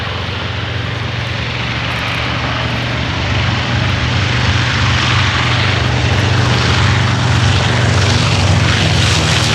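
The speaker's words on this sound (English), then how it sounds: "running now from the right is the wonderful B25 Mitchell" A B-25 Mitchell twin-engine propeller bomber runs past at an air show, its loud, steady piston drone swelling slightly as it passes with no talk over it.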